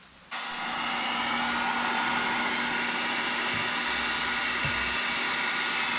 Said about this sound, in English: maybe we'll try a heat gun